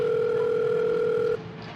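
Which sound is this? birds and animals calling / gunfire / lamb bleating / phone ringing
phone ringing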